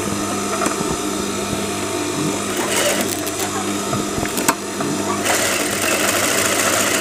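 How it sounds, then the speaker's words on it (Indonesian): A sewing machine stitches a Shanghai collar slowly, keeping the stiff interfacing out of the seam, with a steady, close mechanical whir running unbroken throughout. "Kita jahit pelan-pelan."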